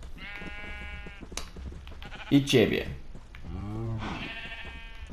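Sheep bleat in the video game Minecraft, a couple of wavering baas close by while someone talks over them.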